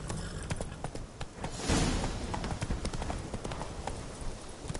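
Horse hooves gallop in a rapid, steady clip-clop rhythm across the ground in The Witcher 3, moderately close, with a brief swell of rushing noise midway and no speech.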